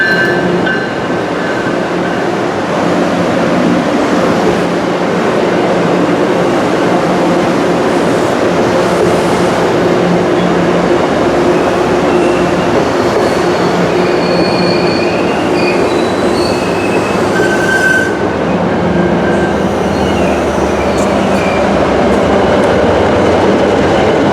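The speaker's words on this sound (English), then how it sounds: "We later returned to Worcester with Keolis 7524 departing with HSP 46 number 2000 on the back, which has a very loud horn." Keolis-run MBTA commuter train on the Worcester Line pulling away with an HSP46 locomotive at the rear, a long steady rumble of rolling cars with wheel squeal and clickety-clack, no voices.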